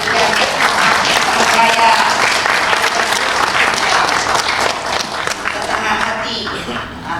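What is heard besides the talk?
audience applause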